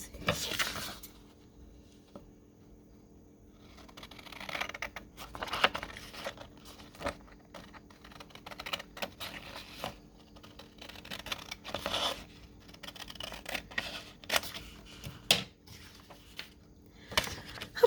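Scissors cut through craft paper for ephemera, with intermittent close snips and papery rustles spread unevenly across a quiet stretch.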